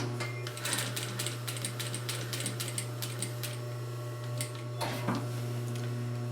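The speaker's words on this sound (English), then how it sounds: "Now we're going to sew across the bottom again." A sewing machine stitches across the bottom of a durable reusable grocery tote bag, its rapid mechanical needle rattle running steadily in close bursts with a brief pause before resuming.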